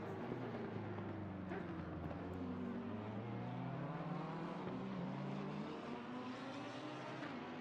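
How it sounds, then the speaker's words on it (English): A Lamborghini V10 race car engine in Assetto Corsa Competizione screams at high revs at Donington, heading toward the Melbourne Hairpin. The loud, steady drone has pitch that rises and falls as it shifts through gears, with other cars' engines layered behind. "That lovely V10 screaming away down towards Melpin Hairpin."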